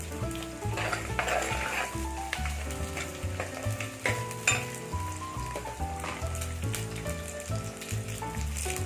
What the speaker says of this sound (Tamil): கருவேப்பிலை போட்டு இது நல்லா வதங்கணும்